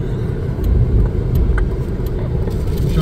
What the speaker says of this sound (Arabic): انا سايق السياره